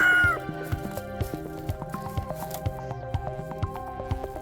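Chickens cluck in a backyard garden pen, a steady run of short, close calls repeating over a few seconds.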